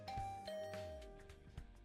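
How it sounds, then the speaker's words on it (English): A video game doorbell in The Hundred Line chimes as a short ding-dong, with a sustained tone that fades while softer clicks and knocks follow. It sounds quiet and close, with no talking. "I rang Gaku's doorbell."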